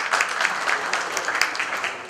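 Audience applause for a speaker called to the stage at a company tech day event, a steady dense clapping from a full room lasting throughout, loud and close.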